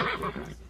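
A horse neighs as a radio-show sound effect, one short, loud whinny that trails off quickly within a second.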